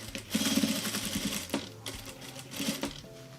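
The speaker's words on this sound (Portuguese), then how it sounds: "aqui a gente vai continuar costurando até chegar na marcação que a gente fez" Sewing machine stitching a zipper onto a knife case, bursts of rapid mechanical needle clatter separated by brief pauses and handling knocks, close and clear.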